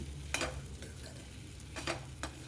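Spices being stirred into okra frying in a pan, with two or three scraping strokes over a low steady sizzle and no talk.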